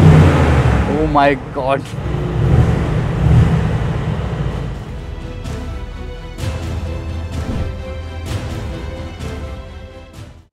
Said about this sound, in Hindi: जो एग्जॉस्ट की साउंड है वो भी हम एडजस्ट कर सकते हैं, अभी कंफर्ट मोड में है, this is on sport plus mode. So here this sound guys